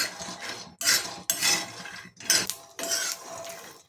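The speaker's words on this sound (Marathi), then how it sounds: "इथे आपण शेंगदाणे भाजून घेऊयात" Peanuts roasting in a dry pan for sesame-jaggery sweets, stirred with a metal spoon in several bursts of scraping and rattling, close and fairly loud with short pauses between strokes.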